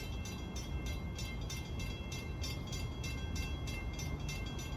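An eastbound Budd M3 electric commuter train on a Long Island main line rushes past at speed, a steady rumble with evenly spaced rhythmic wheel clicks over rail joints throughout.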